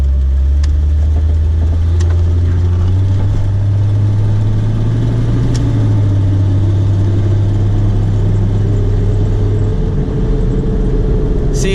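Jeep XJ on the road with a suspected driveline or wheel bearing fault: a loud, steady low-pitched drone and hum from inside the cabin that holds for most of the stretch, with a slight shift in pitch toward the end.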